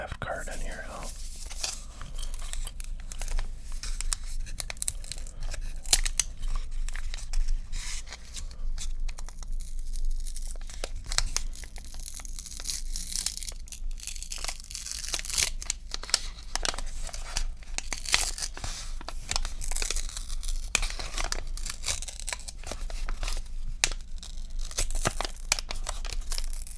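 Older baseball card packs are torn open and handled up close, with crinkly wrapper rips and rustles over a soft whispering voice and faint gum chewing.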